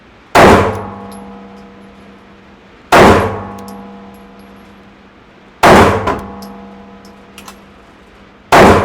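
Handgun shots at an outdoor shooting range, four loud sharp reports spaced roughly three seconds apart, each with a ringing metallic decay and nobody talking.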